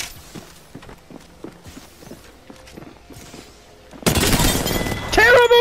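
Video game gunfire: a run of quick, sharp shots rattles off in a rhythmic string, then a dense, loud burst of heavy fire and a harsh, bright blast takes over near the end.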